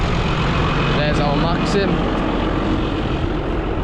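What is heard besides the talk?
tractor engine running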